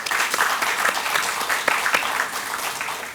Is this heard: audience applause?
yes